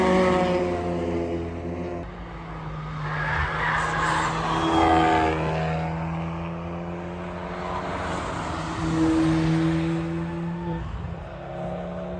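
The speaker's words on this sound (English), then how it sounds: "it's quite fun just watching all the cars going round" Track cars, including a rebuilt Ford Fiesta ST, circle the Nürburgring circuit, with steady engine drone and revving swelling and fading as they pass at moderate distance, layered and continuous throughout.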